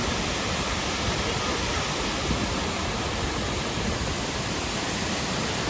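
Steady, dense rushing water roars without a break, a broad constant wash of a waterfall heard up close.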